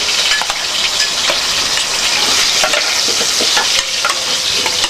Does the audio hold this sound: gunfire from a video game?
no